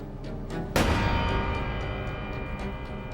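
A single sharp gunshot cracks out suddenly, loud and close, then rings off into a long reverberant tail.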